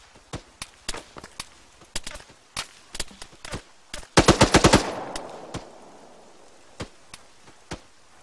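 Arma 3 machine gun fire cracks out as single spaced shots, then a tight rapid burst of about eight rounds that echoes away, followed by a few more scattered distant shots, fairly loud and with no speech.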